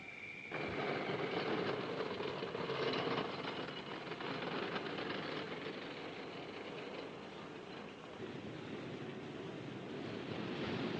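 A 1936 mail train runs through Crewe junction, a loud, steady rolling rumble with a hissing wash that holds close and unbroken throughout.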